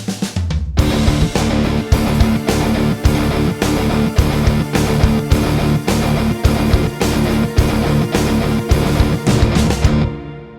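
A single-note groove riff repeats in a steady three-count pattern, the rest falling on the fourth beat, played loud and clear with a drum or percussion backing and no talking.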